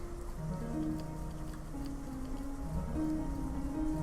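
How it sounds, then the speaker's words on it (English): Steady thunderstorm rain falls as a soft, even hiss with no clear thunder claps, under low sustained background tones. "I think these are the thunderstorms I was expecting."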